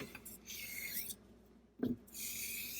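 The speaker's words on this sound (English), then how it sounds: "you're still going to wear the spine because it's going over an abrasive stone" An Artrazor straight razor drawn across an abrasive honing stone during a bevel re-set, close dry rasping strokes broken by short pauses and a brief knock.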